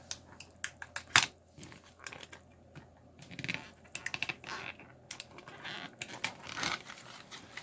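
Toy packaging is cut open with a blade in a series of close, quiet snips, crinkles and plastic scratches that come in uneven bursts against a hushed background.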